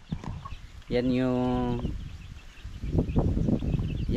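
Native chickens cluck in a small two-room chicken coop on a farm, with one loud drawn-out squawk standing out, then quieter clucks mixed with background voices.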